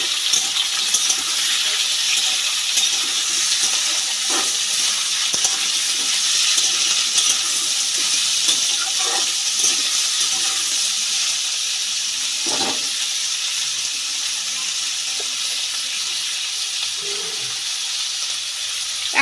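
Potatoes and onions fry in a pan with a steady, continuous hiss and sizzle, faint scattered clinks of a utensil now and then, no voices over it.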